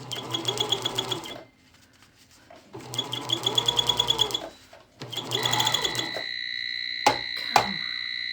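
A sewing machine runs in fast bursts while stitching a Pendleton '49er wool shirt, pausing between runs, with a few sharp beeps near the end.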